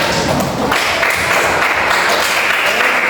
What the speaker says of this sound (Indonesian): Kasih tepuk tangan untuk kelompok bintang